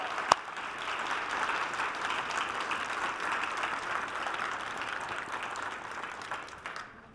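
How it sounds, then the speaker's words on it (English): A conference general session audience applauds in a steady, even wash of clapping that holds for several seconds and fades at the end, with no voices over it. "can we give you all a round of applause for just showing up for each other every day and for being here"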